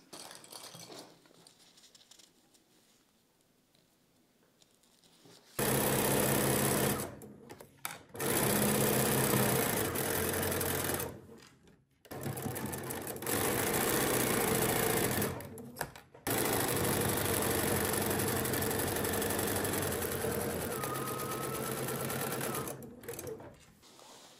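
Sewing machine stitching a foundation paper pieced apple block, loud steady whirring bursts with short pauses between seams after a quiet opening.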